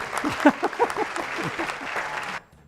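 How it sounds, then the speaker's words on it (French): Studio audience applauding a book author on a French talk show, a dense burst of clapping with voices mixed in that cuts off sharply near the end. "Applaudissements, s'il vous plaît."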